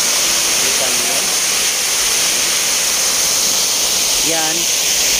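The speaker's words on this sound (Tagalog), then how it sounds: "Yung narinig natin lumagas ang tubig kanina mga idol." Steady, loud broadband roar of water crashing down a waterfall fills the whole stretch, with a couple of brief voices faintly audible beneath it.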